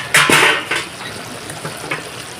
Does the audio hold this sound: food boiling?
yes